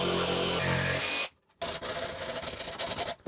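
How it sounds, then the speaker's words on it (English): A jigsaw cuts through wooden jig runners in a woodworking shop, a loud, close, rasping buzz that drops out for a moment before resuming with a choppy stroke. "I'm just going to use the jigsaw and just trim them up"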